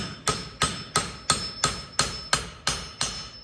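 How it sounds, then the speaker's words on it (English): Hammer forging a steel blade to compact its leading edge: eight evenly spaced, loud ringing metal blows, each strike sharp and close with a short decaying ring, no talk. "This blade isn't really going to take a lot of forging, and maybe just kind of like compact the leading edge a little bit."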